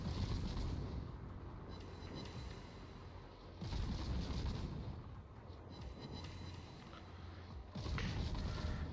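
Naval guns of the Khabarovsk warship booming in a naval battle game, with heavy, loud salvos roughly every four seconds over a constant low rumble of engine and sea.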